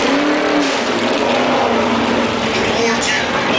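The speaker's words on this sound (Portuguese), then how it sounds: "E agora vocês vão vendo os carros chegando." Race cars pull into a pit stop, their engines revving loudly and continuously with a dense, mid-pitched roar under crowd noise and voices.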